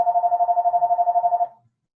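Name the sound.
mobile phone ringtone ringing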